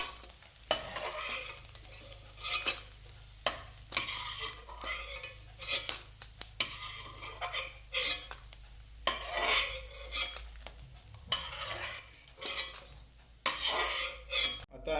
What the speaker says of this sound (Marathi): डिंक आपला तळून झालेला आहे